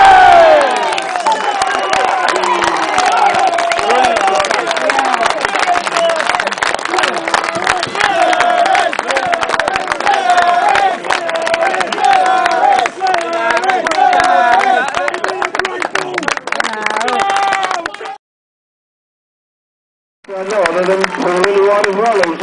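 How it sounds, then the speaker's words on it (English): A football crowd at a Slough Town versus Croydon match cheers, shouts and applauds loudly and continuously after the final whistle, breaking off briefly into silence near the end before resuming. "So once again, a big round of applause for everybody connected with the club."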